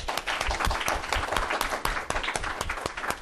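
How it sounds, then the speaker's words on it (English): Audience at a panel on Sino-U.S. cooperation on air quality applauding the speakers, with dense, steady clapping from many hands filling the whole stretch at moderate loudness. "can we first of all applause for the speakers?"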